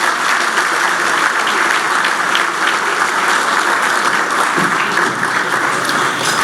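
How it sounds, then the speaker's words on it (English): A room full of people applauds steadily for newly elected governors at the USSGA 2017 annual general meeting, with dense, continuous clapping that holds at an even level throughout and no voices over it. "A round of applause for the new governors"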